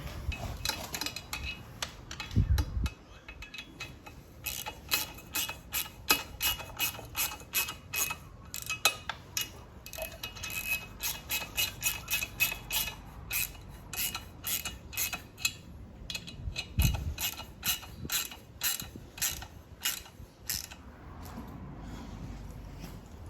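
Rapid metallic clicking of a ratchet wrench tightening exhaust header bolts on a Honda CRF250L motorcycle comes in repeated bursts, close and fairly quiet, with occasional clanks of metal between strokes.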